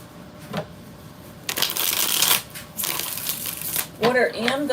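A deck of tarot or oracle cards being shuffled by hand, several crisp riffling bursts close to the microphone between quieter pauses, with a voice speaking faintly in places.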